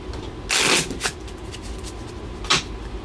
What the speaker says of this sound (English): Do a couple of shuffles.